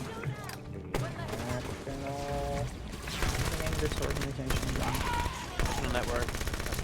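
Rapid bursts of submachine gun fire in a video game, repeated through the clip over game music and sound effects, with players talking over it.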